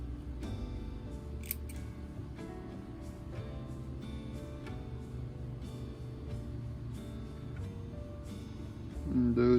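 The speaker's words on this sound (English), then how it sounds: "Make sure the tips are aligned, snip them off the feather." Scissors snip pheasant tail fibers for fly tying, a few faint, crisp clicks scattered over a quiet room hum, close but soft and with no talk.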